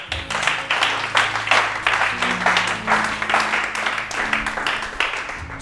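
A church congregation applauds to acclaim the Lord, a sustained crowd clapping with a rhythmic pulse, lively and close, with some voices mixed in.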